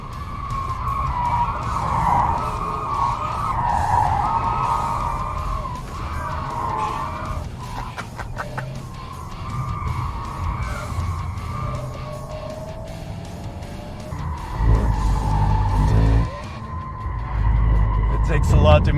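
Tires squeal long and loud as an electric Porsche brakes hard into a corner on a race track, the shriek wavering over engine and road noise while people talk and exclaim.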